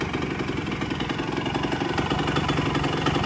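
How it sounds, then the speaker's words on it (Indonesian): A Kawasaki KE 125 two-stroke 125cc motorcycle engine idles steadily nearby, a loud, even, buzzy putter with a rapid regular pulse and no voices. "posisi mesin nyala ya. Nah, ini sudah stasioner."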